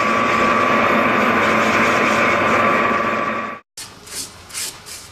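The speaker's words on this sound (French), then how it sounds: "Une ponceuse à bande permet de finir l'aspect extérieur." A belt sander finishes the outside of wooden clogs, a loud steady humming grind close by for several seconds, then a sudden cut followed by a few softer, separate rubbing sounds.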